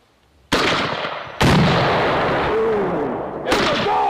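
Rifle grenades fired during a military demolition breaching exercise: two loud, close blasts in quick succession, followed by a long reverberating rumble and a third sharp blast near the end.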